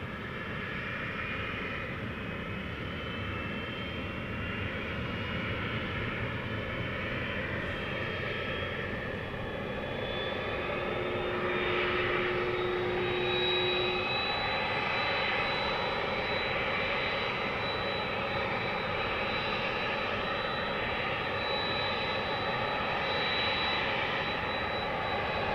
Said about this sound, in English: I hear some engines revving up.